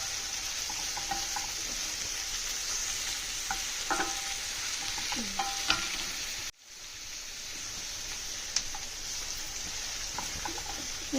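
Goat brain frying in a pan with onions: a steady, close sizzle with a utensil scraping and stirring now and then, and a brief cut partway through before the sizzling resumes.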